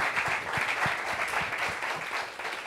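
A television studio audience claps throughout, a thick, even wash of many hands at moderate loudness with no talk over it.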